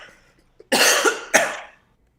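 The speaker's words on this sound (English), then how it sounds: "let me clear my throat" Two harsh, rasping throat-clearing bursts in quick succession, close and fairly loud, followed by quiet.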